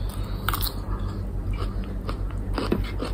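Close, moist chewing and biting on charcoal-grilled chicken at a mukbang meal, with several crunchy bites landing in quick bursts over a steady low background hum, no talking.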